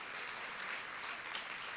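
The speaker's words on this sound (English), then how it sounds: "A round of applause for the techs." A school gathering's audience claps for the technology department, a quiet, brief wash of steady applause with no voices over it.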